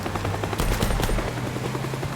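Helicopter in the video game Teardown, a steady low rotor drone running throughout with sharp bursts of gunfire-like cracks layered over it.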